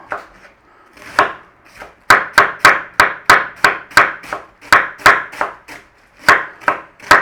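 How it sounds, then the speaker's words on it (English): A knife slices cabbage thinly for German-style sauerkraut, striking the cutting board in sharp, evenly spaced chops, close and loud. A few slower cuts come first, then a steady rhythmic run. "Now you do it any which way that you normally slice your cabbage."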